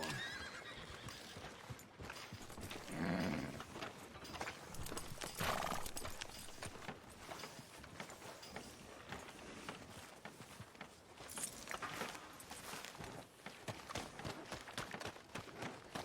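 Horse neighs and hoofbeats from Red Dead Redemption 2 on Xbox One: a loud whinny stands out early, followed by steady clip-clop of hooves on a town street, with dense game ambience filling the background.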